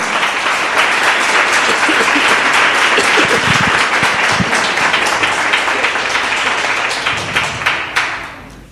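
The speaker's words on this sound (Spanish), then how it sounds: "Dáselo bien fuerte al Señor ese aplauso." A church congregation applauds loudly and continuously at an evening service, a thick wash of clapping with a few distinct claps poking through, fading out near the end.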